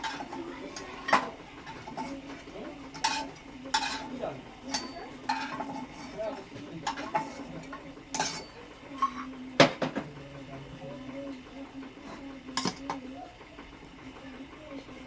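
Fried lentil dumplings (bori) are lifted out of a pan of oil with a utensil, producing scattered light clinks and scrapes of metal against the pan over a low background.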